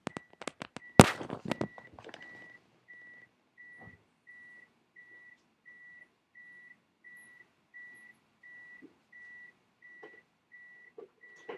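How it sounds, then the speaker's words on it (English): A regular electronic beep repeats about twice per second, steady and moderately loud, after a brief burst of sharp cracks and clatter at the start. "Something that's beeping."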